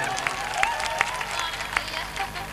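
At a wedding gathering, an audience claps in a steady crowd patter. A few sharper claps stand out, and the sound stays moderately loud with no clear voice over it.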